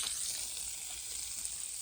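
Chicken fries in a pan with a soft, continuous sizzle. The crackle is faint and steady, with no voices over it.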